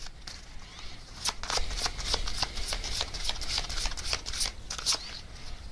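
Message cards shuffled for a tarot-style reading, crisp papery riffling in repeated quick bursts close to the microphone, with no talk over them.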